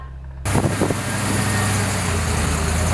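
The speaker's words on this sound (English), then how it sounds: "That's freaking Craig in his truck. Do you hear that?" A pickup truck engine starts up abruptly and rumbles steadily nearby, a loud low drone idling and pulling past.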